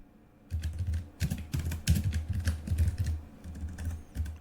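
Fast clicky typing on a computer keyboard, close up, in several quick runs of keystrokes with brief gaps and a low hum underneath, no speech.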